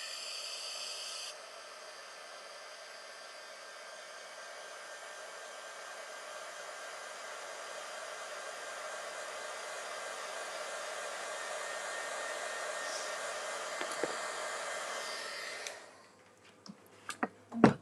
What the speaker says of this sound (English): I'm gonna hit it with my heat gun again